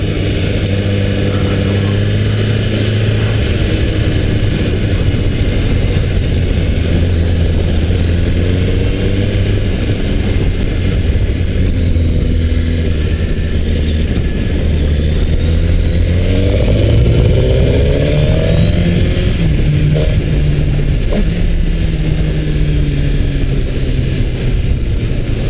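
A 2019 Suzuki GSX-R1000R sportbike engine roars loudly and continuously on the road, its pitch climbing and falling as the throttle opens, with wind rush throughout and no speech.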